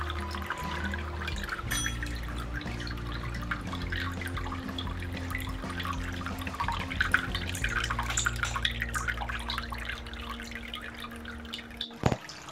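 Water trickles and splashes steadily in a cascade-style decorative fountain made of wood and cement with blue water, heard close and continuous with a faint low hum beneath and a brief sharper splash near the end.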